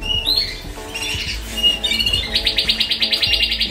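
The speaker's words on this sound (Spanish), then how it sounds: "Esta es una pajarita que la tengo ahí metida." Small female aviary bird squawking close by, a run of sharp, high squawks and chirps that ends in a fast, pulsing series of repeated calls.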